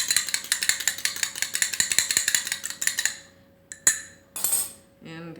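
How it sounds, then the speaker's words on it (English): A utensil stirs egg white wash in a bowl for brushing cranberry scones, giving a quick run of close, rhythmic clinks and scrapes for about three seconds, then a couple of isolated knocks and rattles. "I'm going to put it into and I'm going to just stir it up just a little bit"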